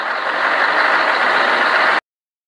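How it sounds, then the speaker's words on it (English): A tow truck engine running loud and close with a steady, broadband roar for about two seconds before it cuts off abruptly. "tow truck"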